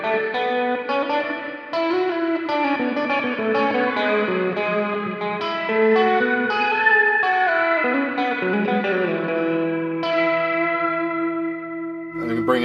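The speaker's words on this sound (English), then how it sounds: "it's almost getting that kind of octave up shimmer verb sound" A sustained guitar chord through a Mooer Red Truck pedal, washed in lush reverb, with a bright octave-up shimmer ringing above it and a long swelling tail.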